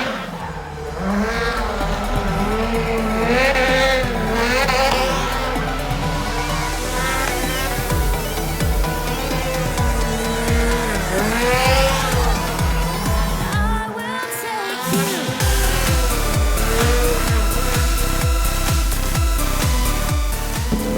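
A Subaru WRX STI slides through a corner on a handbrake turn, its engine roaring loud and close while the tires squeal in long sustained wails, then the revs pulse in a rapid rhythmic bounce near the end.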